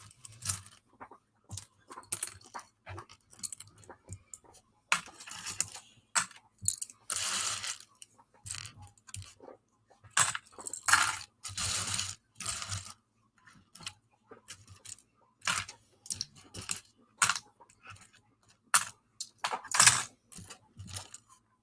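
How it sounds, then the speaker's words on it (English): LEGO bricks being sorted produce rapid bursts of plastic clicks and clacks, irregular clusters of sharp taps and rattles close by, with short pauses between handfuls and no speech. "Turn this video into the sound of clicking and clacking bricks."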